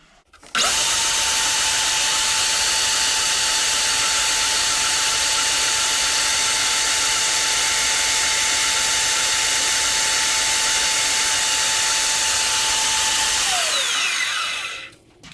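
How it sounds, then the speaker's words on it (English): A portable band saw with fine teeth cuts through thin plastic in a shop. The motor starts up, runs loud and steady with a whining hum for about thirteen seconds, then winds down and stops. "bandsaw, or the porta band, specifically because of the fine teeth. That's probably the best thing for this thin plastic"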